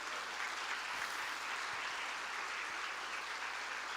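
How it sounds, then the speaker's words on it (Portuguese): A church congregation applauds steadily, a dense continuous wash of clapping from many people in a reverberant hall, even in level throughout. "Você pode aplaudir o nome de Jesus?"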